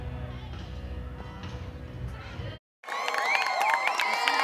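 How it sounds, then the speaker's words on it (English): Crowd in French Lick, Indiana cheering and applauding as the solar eclipse reaches totality, a steady dense roar of clapping and shouts that briefly drops out, then returns louder and brighter with whoops. "As the sun and moon aligned over French Lick, Indiana, hands joined in applause and in appreciation."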